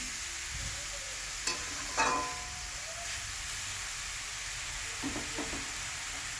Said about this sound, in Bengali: তো শাকটা দিয়ে সবজির সঙ্গে ভালো করে মেলে নিচ্ছি